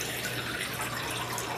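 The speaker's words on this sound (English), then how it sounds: "help me pour in the water" Water poured steadily into a container while making jelly, a continuous splashing rush that holds close and fairly loud throughout, with no voices.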